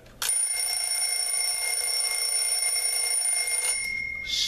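A red Sternreiter twin bell wind-up alarm clock rings nearby with a loud, continuous metallic clatter. It starts abruptly, holds steady for about three and a half seconds, then stops suddenly.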